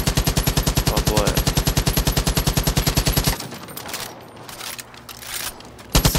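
Rapid automatic rifle fire, AK-47 style, in the video game Far Cry New Dawn: a loud, evenly spaced stream of shots for about three seconds, then rattling mechanical clatter and debris, with a final short burst.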